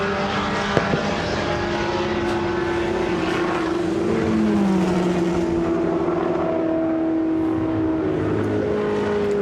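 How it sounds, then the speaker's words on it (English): Engines drone steadily as World Championship sports racing cars sweep past at Goodwood's Members' Meeting, their tones shifting and bending as each one goes by, loud and continuous with no talk. "the first opportunity to see these wonderful World Championship sports cars"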